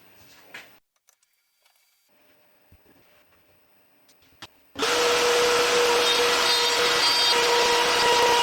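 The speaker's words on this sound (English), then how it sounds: "Now we'll cut the groove for the in-between back panel, like this, something like this, just with a spiral router bit" After a few faint knocks and near-silence, a power router with a spiral bit starts cutting a groove in wood, a sudden loud steady whine that holds to the end.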